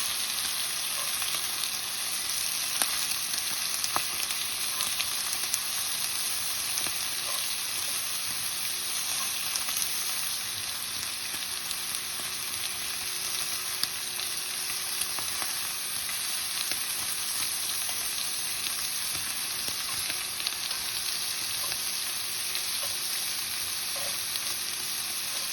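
Elk tongue searing in a hot cast iron pan, a steady dense crackling sizzle with scattered pops that holds evenly and close throughout, with no voices.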